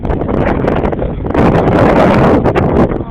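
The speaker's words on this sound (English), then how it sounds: "The wind just picked up and this weird cloud is coming towards us." Strong wind gusts during a thunderstorm at a forest lake roar and buffet the microphone continuously, swelling louder midway with rustling bursts and no pause in the rushing noise.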